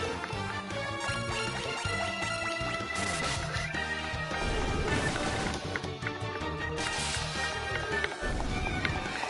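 Crazy horse enemies in Final Fantasy I Pixel Remaster, neighing and clip-clopping hooves over battle music, loud and continuous with repeated whinnies and hoof taps.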